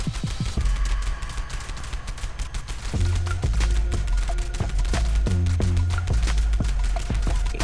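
The Quad Pepper Shaker weapon in Fallout 76 fires in rapid bursts, loud and close. Sharp repeated bangs come in clusters with brief pauses between them over a busy game background.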